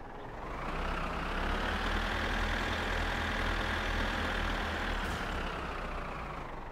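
A tractor engine runs steadily in My Summer Car, a loud, constant low drone that holds nearly unchanged from start to finish with no talking over it.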